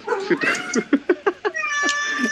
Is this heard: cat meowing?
yes